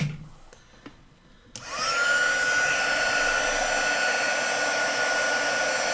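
A hair dryer drying ink artwork on paper switches on after a few quiet seconds, ramping up to a loud, steady close whoosh with a thin whine riding on top.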